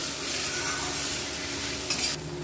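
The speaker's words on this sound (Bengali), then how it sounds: "দিয়ে মশলাটা ভালো করে কষে নিচ্ছি।" Turmeric spice paste frying in oil while being stirred, a dense, steady sizzle with faint scraping and a brief louder spike near the end, no voices.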